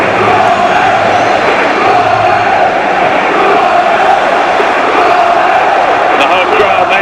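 The home crowd at a Portsmouth Championship football match against Leicester City gives off a loud, constant roar with rising chants and shouts. A commentator talks over the steady wall of noise.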